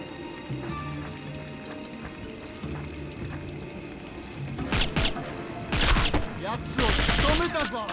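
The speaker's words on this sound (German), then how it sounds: "Schieß, schieß, schieß, nicht nachladen." Rapid bursts of gunfire and crashing impacts in the James Bond 007 Nightfire video game, growing louder in the second half, with game music and effects underneath.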